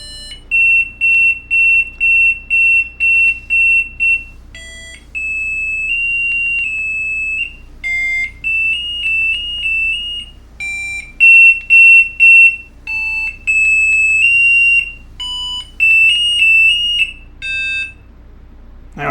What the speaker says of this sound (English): what you'll hear is an initial tone that will be increasing in its pitch each time I change to a different alarm tone